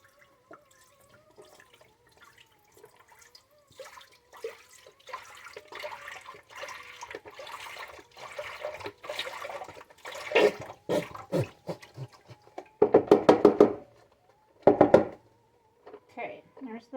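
Bone broth pours and splashes into a cooking pot in a few bursts, close and fairly loud, after quieter handling sounds.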